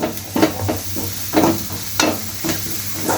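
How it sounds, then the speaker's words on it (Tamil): Garlic with onion, green chilli, turmeric and salt is sautéed in a pan for potato poori masala: a soft continuous sizzle under repeated spoon scrapes, about five or six stirs. "அது கூட கொஞ்சம் தூள் உப்பு போட்டு வதக்கணும்"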